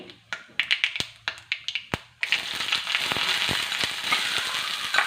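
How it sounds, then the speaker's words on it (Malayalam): Mustard seeds give a few sharp, separate pops in hot oil, then sliced onion goes into the pan and sets off a steady, loud sizzle that carries on to the end, with no voices. "ഇനി ഇതിലോട്ട് സവോള ഇട്ട് വഴറ്റാൻ പോവാണേ"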